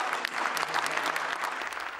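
Steady applause from a studio audience at a public meeting on the Icelandic financial crisis, dense and continuous clapping filling the whole stretch with no voices on top.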